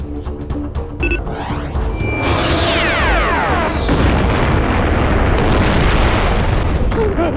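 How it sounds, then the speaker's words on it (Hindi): A planet exploding in an animated Hindi superhero series: a loud, roaring blast that swells into a sustained rumbling boom, with sweeping whooshing tones and dense crackling debris noise that fills the rest of the stretch. "धमाका"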